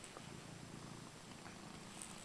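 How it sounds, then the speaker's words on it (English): A rescued cat purrs steadily and softly up close, a continuous low rumbling hum with no voices over it. "He's constantly purring."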